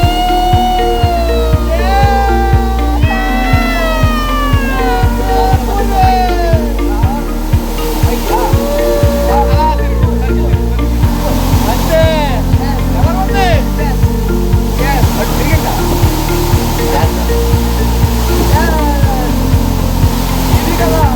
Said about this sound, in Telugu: వాటర్ ఫాల్స్ అయితే ఇదిగోండి